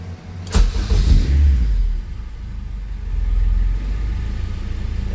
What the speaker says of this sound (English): We're gonna let the engine run